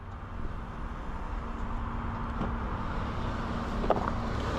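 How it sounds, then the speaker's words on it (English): A 2024 Lexus TX 500h F Sport hybrid SUV gives a steady low interior drone and road rumble while driving, with faint tyre noise and no talking. "Let's get this car out on the road and see how it drives."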